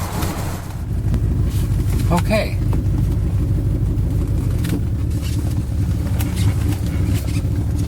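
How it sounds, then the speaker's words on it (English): A Mercedes-Benz W126 500SEL idles steadily with a slightly rough, low rumble and the ticking puff of an exhaust leak, close and continuous throughout, with a brief spoken word near the start. "You can hear the exhaust leak."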